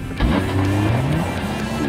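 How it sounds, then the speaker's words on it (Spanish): A Porsche Panamera 4 E-Hybrid Sport Turismo with petrol and electric motors and an 8-speed PDK dual-clutch gearbox accelerates hard, its engine note rising steadily and loud and close for about two seconds with no talk. "Basta con hundir el pedal en el acelerador, comprobar cómo los dos motores actúan a la vez y sentir una aceleración realmente colosal."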